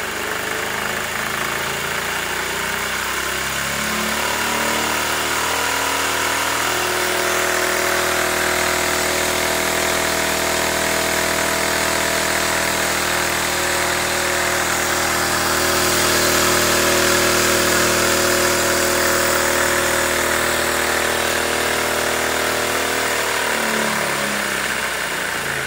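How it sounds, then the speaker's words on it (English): N machine generator with spinning magnets, a Faraday homopolar device, whirring loudly and close as its speed rises and falls, with a dense mechanical hum and shifting tonal whine throughout and no talk. "It's generating that amperage just by spinning magnets."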